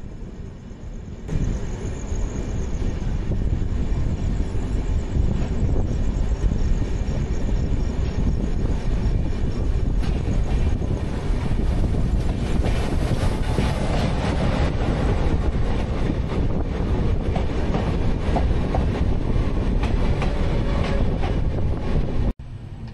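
The Darjeeling Mail passenger train runs steadily at night for a long stretch before Bardhaman, a loud constant rumble of wheels and carriages rolling along the track.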